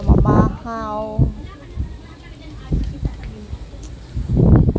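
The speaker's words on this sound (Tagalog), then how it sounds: "Sobrang lakas ng hangin." Strong wind rushes and buffets the microphone in a low roar between bursts of nearby talking, on a Panglao, Bohol land tour.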